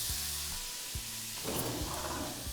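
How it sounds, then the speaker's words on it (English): Spam pieces cook in a hot pan on medium-high heat for pineapple fried rice, giving a steady close sizzle and hiss that swells briefly midway, with occasional low clunks of the pan or utensil. "Now we're gonna cook the Spam."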